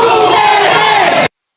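A Duterte rally crowd shouts together in a loud, massed roar, a short burst of many voices that cuts off abruptly.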